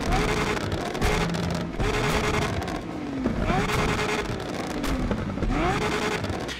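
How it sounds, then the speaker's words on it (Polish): A 4-litre V8 car engine in the Need for Speed Unbound video game roars loud and continuous, revving up and down through gear changes with a steady throaty drone and no talk over it. "W standardzie mamy 4-litrową V8"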